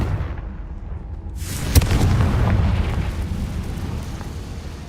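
A Confringo blasting spell bursting into an explosion in Hogwarts Legacy: a sudden loud boom with a sharp crack, followed by a rolling, rumbling tail that slowly fades.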